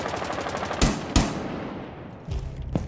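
G36 rifle firing in Rainbow Six Siege, with a few sharp, loud single gunshots spaced apart over a faint background rumble, heard alone without talk.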